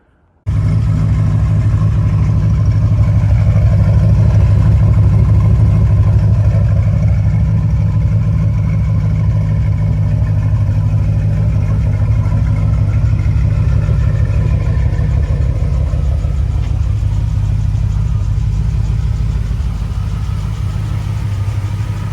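Triumph TR6 sports car engine running steadily, a loud, low, continuous rumble that holds fairly even with slight swells, close and without talk.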